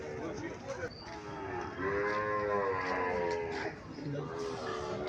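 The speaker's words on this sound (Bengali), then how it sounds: "এখানে একটা ষাঁড় দেখা যাইতেছে" A Sahiwal bull gives a long, deep, close moo that swells and fades against a noisy background at a cattle sale in Cumilla.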